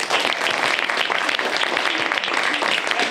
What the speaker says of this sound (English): Big round of applause for Russ.